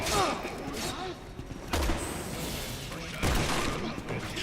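Gunfire from a distant shooter in the video game Resident Evil 6, a few heavy thumping shots spaced across the moment amid game noise, with voices talking in the background.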